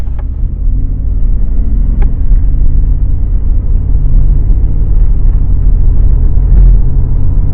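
A 2020 Ford F150 truck cruising uphill at 55 mph, with a loud, steady, low road and engine rumble filling the cabin and no break in the drone.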